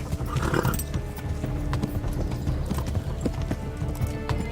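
Horse hooves clip-clopping at a steady gallop in the medieval game Kingdom Come: Deliverance, a fast continuous rhythm with a brief whinny near the start, loud and close.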